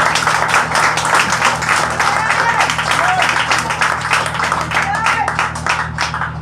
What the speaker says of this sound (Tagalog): Yan na ba ang mga palakpak na nagtitiwala?